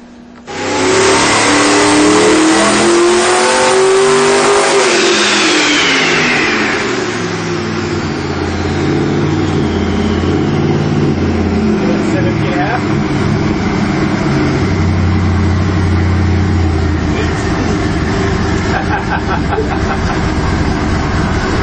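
A turbocharged 632 big-block Chevy V8 revs on a dyno pull, roaring loud and close as it climbs in pitch, then settles into a sustained heavy drone for many seconds.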